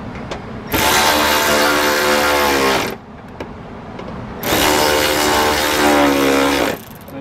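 A power driver with a T20 Torx bit tightens screws on the door of a 2009-2014 Nissan Murano, giving two loud, close whirring bursts of about two seconds each, separated by a quiet pause.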